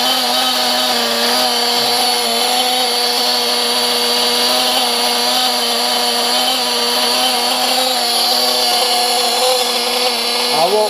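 Small two-stroke engine idling steadily and fairly loud after refueling, a constant buzzing hum with a slight rise near the end.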